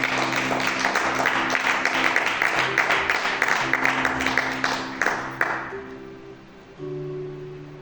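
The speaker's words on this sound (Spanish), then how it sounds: "Den una ofrenda de palmas al Señor." A church congregation claps together in a sustained, dense burst of applause as an offering to the Lord, with a steady tonal hum beneath. The clapping tapers off after about five seconds, leaving the lingering drone.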